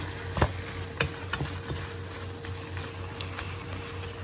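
Garlic-seasoned food frying and sizzling in a home-kitchen pan, with a steady hiss broken by a few sharp scrapes and clicks of stirring.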